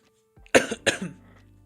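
Two quick, harsh coughs close to the microphone, followed by a short fading breath in an otherwise quiet room.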